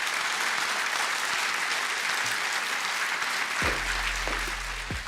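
An audience applauds in steady, dense clapping that runs the whole time, loud and continuous with a few low thumps near the end.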